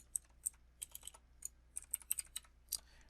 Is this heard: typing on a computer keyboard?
yes